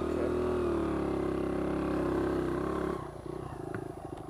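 A Honda XR100 dirt bike engine idles and runs nearby on a wooded trail, a steady droning hum that suddenly drops to a rougher, quieter putter near the end.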